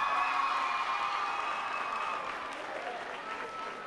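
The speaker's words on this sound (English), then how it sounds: "let's give them a round of applause." An audience at a high school event applauds, a dense patter of clapping that tapers off gradually over a few seconds.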